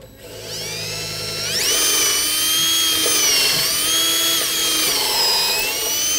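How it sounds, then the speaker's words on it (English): A power drill whines loudly and steadily, its pitch rising as it spins up and dipping slightly as it bites into wooden pergola posts. "So now we're pre-drilling all the posts before we put them in place."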